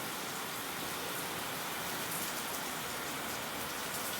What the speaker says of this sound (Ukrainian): Дощ лупить цілий день.